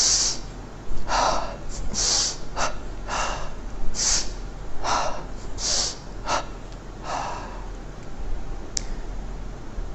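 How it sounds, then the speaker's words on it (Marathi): Sharp breaths in and out during an energisation exercise come in quick doubled pairs, forceful nasal puffs with short pauses between, close and fairly loud over quiet background hiss. "दुहेरी श्वास दुहेरी उच्छ्वास"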